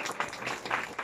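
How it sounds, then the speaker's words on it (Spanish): Applause at a mariachi birthday celebration: dense, steady clapping from a small group, moderately loud throughout the short burst, with no voices over it. "Un aplauso bonito"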